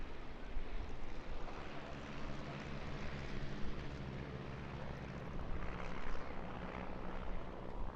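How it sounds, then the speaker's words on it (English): Four open cockpit aerobatic biplanes fly at an airshow at around 130 miles an hour, their propeller engines making a continuous distant droning roar that swells and fades slightly, with no talking. "These 4 open cockpit aerobatic biplanes flying up to speeds of around 130 miles an hour"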